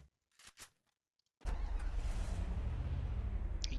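In a battle royale video game, a car engine catches after a short quiet stretch with a couple of faint blips, then runs loud and steady with a deep, continuous rumble.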